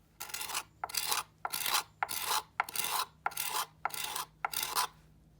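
A scraper edge wears down the tool scallops on a large carved wooden spoon, producing eight evenly spaced rasping strokes. Each stroke is crisp and close, with short silent gaps between them.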